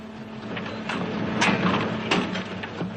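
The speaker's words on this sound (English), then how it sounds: "a new packaging machine." A stocking packaging machine sealing pairs of stockings runs with a steady mechanical hum and several sharp clacking strokes from its sealing action, fairly close, with no talk.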